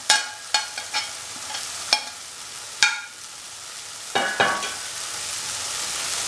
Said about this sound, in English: mix the tomato paste and the pepper powder with the potatoes, tomatoes and the other ingredients